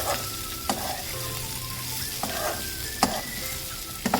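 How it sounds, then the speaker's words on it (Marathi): Chopped spiny gourd (kartule) sautés in a pan with a steady, close sizzle and fry, broken by a few sharp pops and stirring scrapes. "छान ह्याला परतून घेऊन झाकण लावून एक 10 मिनिटं ठेवायचं आहे"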